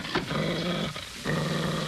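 A dog growls low and menacingly at close range in a Western town setting, a rumbling snarl broken by a brief pause before resuming, with no talking.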